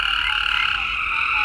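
A tree frog croaks in a garden with a continuous, dense, raspy chorus that stays loud and even throughout, with no voices.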